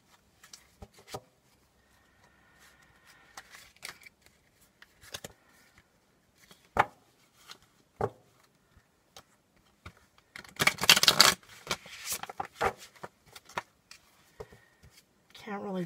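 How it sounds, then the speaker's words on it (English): A deck of tarot cards is ruffle shuffled by hand, with a few soft scattered taps and handling sounds before a dense burst of riffling flutter, close and fairly quiet, followed by more light card handling. "Can't really bridge shuffle these too well. Ruffle shuffle."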